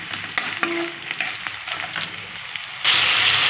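Onions and green chillies frying in oil with panch phoron, a steady close sizzle with light stirring scrapes that swells louder near the end.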